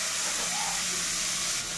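Bay leaves and spices sizzling in hot oil with diced potatoes for a festive home-cooked dish, a steady loud hiss filling the whole stretch with no voices.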